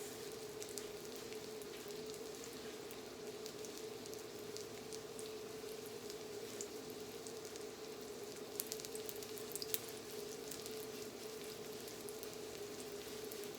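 Faint, continuous crackling sizzle of salmon frying in a hot pan, steady throughout with a low hum underneath and no talking.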